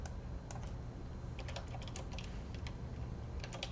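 Quick, irregular clicking of keys being typed on a computer keyboard, close and fairly quiet, running steadily without talk.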